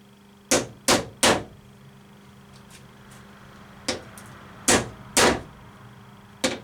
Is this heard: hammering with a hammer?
yes